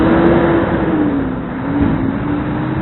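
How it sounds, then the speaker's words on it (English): A truck passes along a street in Emmitsburg, Maryland, its engine a loud, steady drone with a low tonal hum that holds for a few seconds, with no voices. "Let the truck pass."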